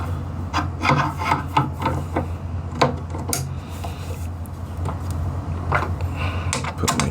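Metal pliers grip and work a screw chuck loose from a WEN 3424T mini wood lathe, giving a run of close, scraping rubs and sharp clicks in an irregular rhythm with no talking.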